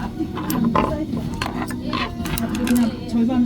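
A sewing machine runs steadily after its rotary hook has been adjusted, giving a continuous mechanical hum with faint clicking throughout.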